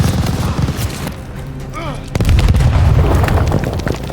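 Grenade blast on a machine gun nest in Call of Duty: Vanguard: a heavy boom and rumble amid gunfire and battle noise, with soldiers shouting over the chaos.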